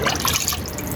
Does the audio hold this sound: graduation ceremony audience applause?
no